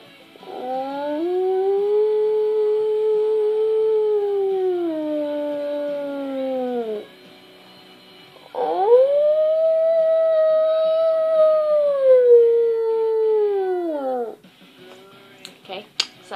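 A human voice imitates a dog's howl in two long, sustained, wavering howls, each rising then slowly falling, loud and close, separated by a brief pause.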